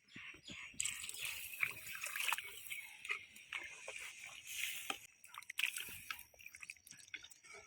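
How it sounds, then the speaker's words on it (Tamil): Water is poured into a pot of goat curry, giving a soft, uneven splashing and trickling that comes and goes in quiet bursts. "தேவையான அளவுக்கு தண்ணி சேர்த்திக்கலாம்."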